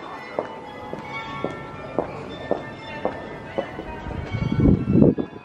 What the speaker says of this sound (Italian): Potete sentire anche le campane in lontananza.